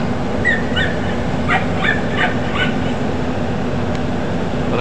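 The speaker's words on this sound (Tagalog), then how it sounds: "May alagang aso si Batangas." A dog yips and barks several times in the distance, small and faint, over a constant steady background rumble.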